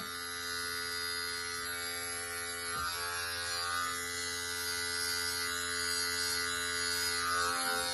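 Andis electric hair clippers trimming hair during a home taper fade, giving a steady close motor buzz with a constant hum that holds evenly throughout, no talking.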